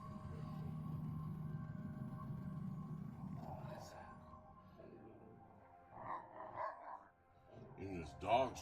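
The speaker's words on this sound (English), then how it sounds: "And his dog's growling." A shepherd dog growls low and steadily inside a cave, a close rumbling that fades after a few seconds, followed by brief louder yips or barks, with people talking quietly.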